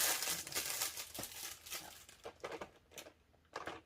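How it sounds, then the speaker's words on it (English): Plastic packaging crinkles and crackles as it is opened, a close, fairly quiet run of sharp rustling bursts that thin out into scattered crackles before a final flurry. "let me go ahead and get the crinkling over with and figure out how to open it"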